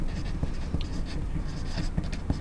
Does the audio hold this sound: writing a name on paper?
yes